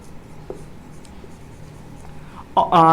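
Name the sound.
writing on a tablet in a different colour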